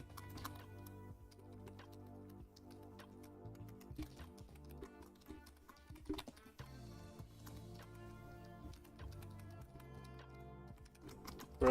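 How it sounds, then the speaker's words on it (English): Fast, steady typing on a computer keyboard while writing code, the key clacks faint and close with irregular bursts of rapid taps and brief pauses. "Practice typing."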